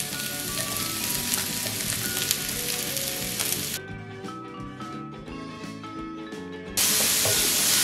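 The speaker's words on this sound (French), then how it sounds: "vous allez rentrer les courgettes, les oignons et les champignons" Zucchini, onions and mushrooms sizzle loudly in a hot pan, a dense close hiss of frying that dips partway through and then surges back louder, with no speech.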